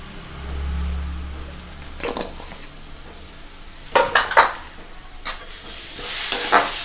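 Spices and turmeric powder frying in a pan for a gram-flour soybean curry, with a steady soft sizzle and bursts of spoon scraping as the mixture is stirred.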